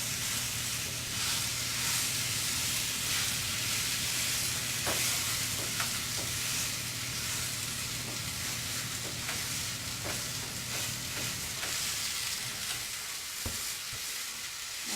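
Meat browning in a skillet and in cake pans, a continuous dense sizzle of hot fat that holds steady throughout, with occasional faint clinks and scrapes of the pans, near and alone without voices.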